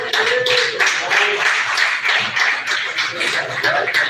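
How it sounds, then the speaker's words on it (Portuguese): Church congregation clapping to welcome a preacher at a Wednesday evening service, a dense, steady patter of many hands filling the room throughout, with a faint voice or two underneath. "Vamos receber o irmão Olímpio com as palmas para Jesus?"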